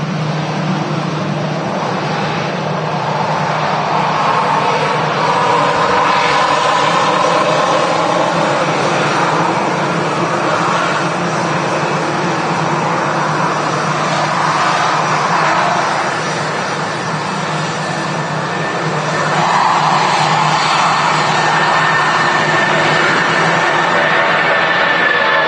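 A Jet2 Boeing 757 departing runway 2 at Manchester Airport in the evening roars loudly and steadily for the whole stretch, with the engine noise swelling slightly near the end and no talking.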